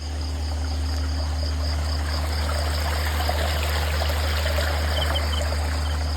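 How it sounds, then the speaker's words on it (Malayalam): Near a small canal or stream, water babbles and trickles without a break, loud and close. Insects chirp faintly in the background and no voices are heard. "കളകളാരവം കേട്ടോ."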